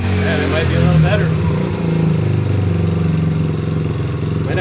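A 50cc scooter engine idles roughly close by, a buzzing, uneven putter that sags and wavers, with a person talking over it.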